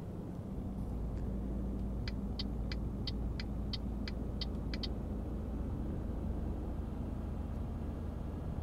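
Volvo truck engine in Euro Truck Simulator 2, a steady low drone cruising along at moderate level, with a short run of faint evenly spaced electronic beeps partway through.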